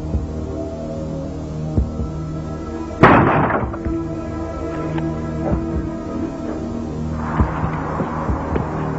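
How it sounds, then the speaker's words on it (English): A single loud, sharp bang hits a door inside a house, ringing out once over a steady low hum and leaving a brief rumbling decay, followed later by fainter clatter. "The bang at the door was immense."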